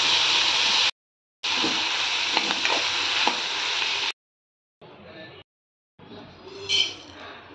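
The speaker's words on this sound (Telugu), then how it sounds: "ఆనియన్, పచ్చిమిరపకాయలు, టమాటో ఫ్రై చేసుకోవాలి" Onion, green chillies and tomato fry in a pan with a steady, loud sizzle. Short breaks of silence split the frying, and a few faint stirring scrapes sound under it, with no talk.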